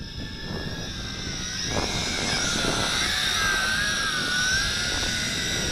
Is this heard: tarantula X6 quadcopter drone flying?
yes